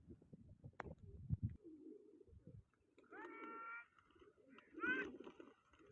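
Pigeons coo softly at a distance, with a few low warbling calls rising over faint background chatter and rustling.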